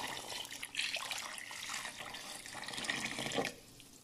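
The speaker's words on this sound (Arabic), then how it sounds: "هذا الموية" Water is poured into a pot of chicken cooking with tomato, a close splashing trickle that runs steadily for about three seconds before stopping.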